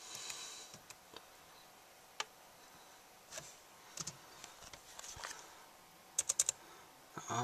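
Light, scattered clicks of typing on a computer keyboard, a few keystrokes at a time with short pauses and a quick cluster near the end, heard close but soft in a quiet room.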